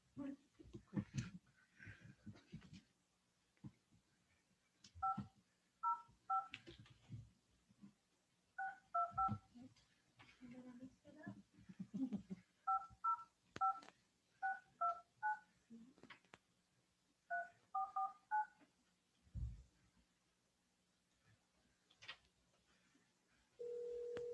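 Keypad tones from a telephone dialing out, several short clusters of beeps tapped in quick groups while people talk and move about in a meeting room. A steady ring tone follows at the end.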